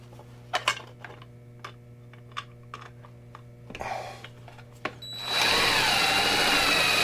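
A power drill drives screws through a 3D-printed part into a workshop wall. Sparse clicks and taps come first, then a loud, steady whir of the drill runs for the last couple of seconds.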